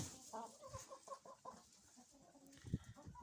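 Hens clucking inside a chicken coop on a farm in winter, a steady run of short repeated clucks with a few louder close calls near the end, no talking.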